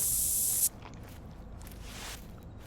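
A scent spray can in the Call of the Wild hunting game gives one loud, steady hiss that lasts well under a second and then cuts off abruptly. Quiet forest ambience with faint rustles continues after it.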